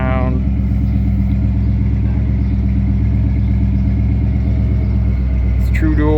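A deep, burbling V8 idle from a 1986 Ford Bronco II rumbles steadily through a throaty Flowmaster 40 series true dual exhaust with an H-pipe, close and loud, with a brief higher sound near the end.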